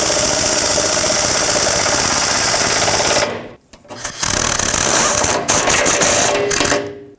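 A power tool runs loudly and steadily while the transfer case shield is bolted back onto a 2008-2010 Ford F-250. It cuts out briefly, then resumes in several short bursts.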